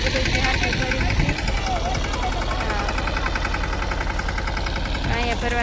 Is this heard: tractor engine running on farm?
yes